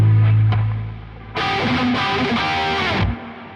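Electric guitar with a saturated, distorted lead tone plays a sustained note, then a bright, gritty phrase of several held notes up close, cut off abruptly after about a second and a half.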